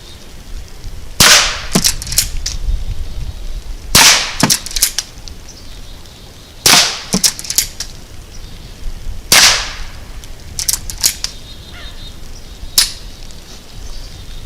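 Sharp rifle shots from a Henry Long Barrel Frontier fired outdoors at K-Cup targets, about seven loud cracks spaced a few seconds apart, with faint background noise between them.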